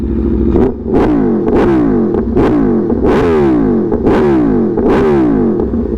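An Aprilia Tuono V4 with a newly installed exhaust blips its throttle several times in a row. Each loud, close rev rises sharply and then falls away, with a rough rumble between the blips.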